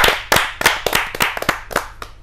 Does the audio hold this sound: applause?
yes